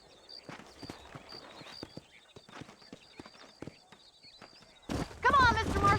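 Steady clip-clop of hooves walking at a measured pace, with a burst of voices and noise near the end.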